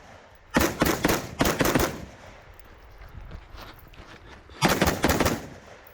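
Rifle fire at steel targets on a 3-gun match stage, heard as two close bursts of sharp shots near the start and another burst near the end, loud and near, with quieter range noise in between.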